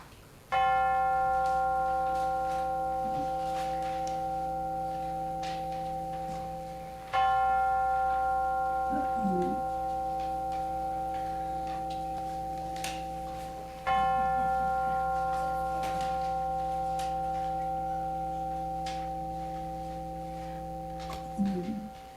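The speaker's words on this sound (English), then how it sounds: "now let us center our hearts and minds with the ringing of the chimes" Chimes ring three times in a Unitarian Universalist worship service, each long, clear, sustained tone slowly decaying before the next strike, in a quiet room.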